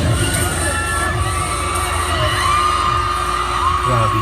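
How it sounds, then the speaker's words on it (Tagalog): A concert crowd at a performance screaming and cheering, a dense, loud, continuous roar of high-pitched shrieks and whoops that fills the whole stretch. "Grabe hiyawan."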